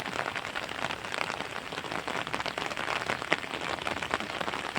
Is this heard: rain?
yes